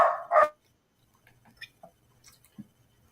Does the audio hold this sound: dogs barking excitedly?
yes